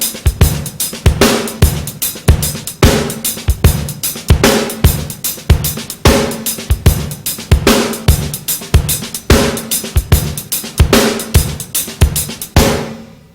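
Basic drum groove with a shuffle bass drum figure, snare backbeats and hi-hat, played close and evenly in a repeating loping pattern until it stops near the end.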